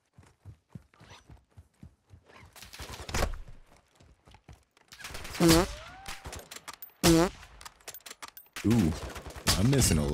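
Gunfire in Call of Duty DMZ, a string of sharp broadband shots scattered through the clip, some in quick bursts, with a voice talking over several of them.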